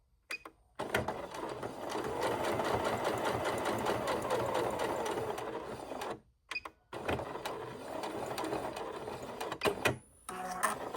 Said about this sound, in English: I'm gonna sew up the sides on each side